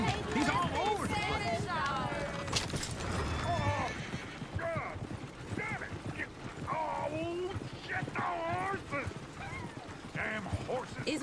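Hooves clip-clop steadily under overlapping chatter, with a horse whinnying now and then amid busy background noise, from the video game Red Dead Redemption 2.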